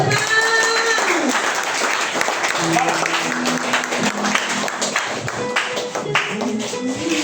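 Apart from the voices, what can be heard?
congregation applauding in church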